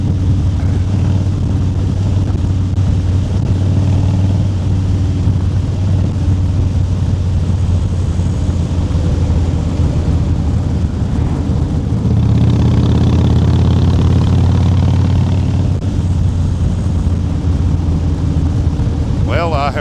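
A motorcycle nicknamed Big Papa fitted with high, short shot pipes rumbles steadily and loudly throughout, a deep continuous engine drone that swells briefly near the middle, with wind noise over it.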